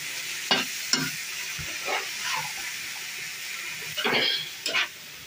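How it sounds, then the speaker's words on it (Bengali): Cabbage frying with small shrimp and spices is stirred in a pan, giving a steady sizzle with several scraping, clattering strokes of the spoon spaced through the clip, close and moderately loud. "এখন পাতাকপিটা আমি একটু নেড়ে দিচ্ছি"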